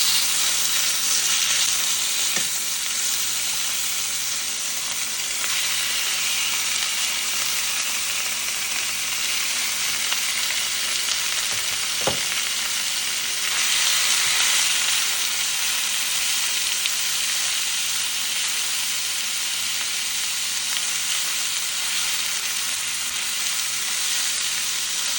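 A batch of steak for tacos fries in a hot pan, a loud continuous sizzle and hiss that swells and eases, with one brief tap partway through.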